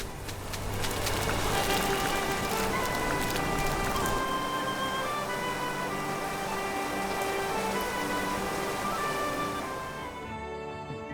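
Rain falling in the farming video game Clanfolk, a dense steady patter with layered game ambience and tones, continuous for several seconds before fading out at the end.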